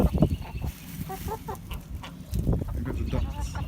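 Farmyard chickens cluck and murmur close by while a person talks over them, the clucks scattered and uneven throughout.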